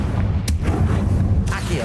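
A fire blast spell in Hogwarts Legacy bursts out as a loud booming impact with a crackling tail, followed by a second sharp hit over a steady rumble.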